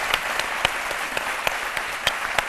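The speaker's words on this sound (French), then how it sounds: "On l'applaudit très fort, notre invité." Warm studio audience applause welcoming bassist Paco Sery on a midday television show, a steady wash of clapping with sharper individual claps standing out.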